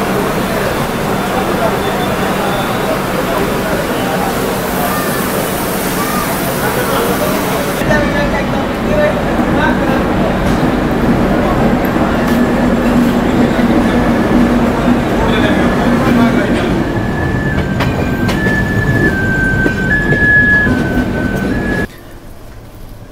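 Onboard a Trivandrum Rajdhani Express with a Northern Railway rake at night: a steady, loud rolling rumble of the coaches runs throughout, with a thin whine rising late on before the noise drops suddenly near the end.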